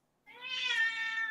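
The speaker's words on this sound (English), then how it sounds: "Sounds like my cat." A single cat gives one clear, drawn-out meow, close and fairly loud, rising and holding before trailing off, with no other sound around it.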